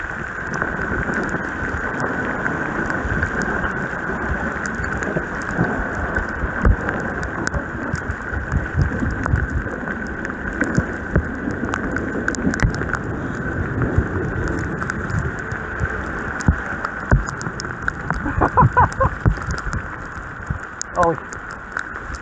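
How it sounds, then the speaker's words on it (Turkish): Heavy downpour drumming steadily on a bicycle rider along the seafront in Marmaris in December, a dense continuous hiss of rain close around with wind and occasional louder spatters. "Ağır sağanak altında bisiklet sürüşü."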